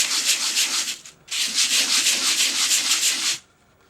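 A woodcut block is sanded by hand in circular motions, producing a loud, close, rhythmic rasping scrub that pauses briefly after about a second, then resumes before stopping abruptly, with no talk.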